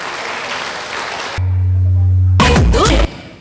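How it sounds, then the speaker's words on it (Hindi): Applause from an audience at a company award ceremony for a Safe Shop opal leader, a dense wash of clapping, then a loud low musical tone takes over and a brief burst of noise follows. "जोरदार तालियां होनी चाहिए, जोरदार म्यूजिक के साथ।"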